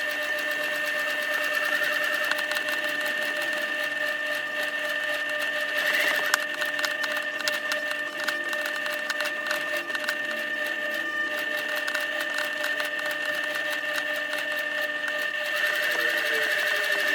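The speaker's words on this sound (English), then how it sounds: "do the edge stitching and top stitching with this thread" A sewing machine runs continuously, edge stitching and top stitching a jacket at a 4 mm stitch length, giving a steady close whirring hum with a rapid ticking rhythm.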